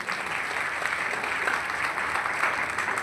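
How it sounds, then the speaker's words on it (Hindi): Crowd applauding themselves at an RCM stage event honoring qualifiers, continuous, loud and dense clapping from many hands with a faint hum of voices beneath. "एक बार अपने लिए तालियां बजा लें।"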